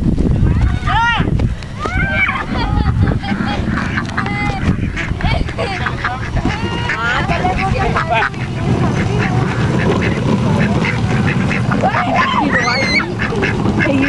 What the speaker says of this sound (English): Look at this duck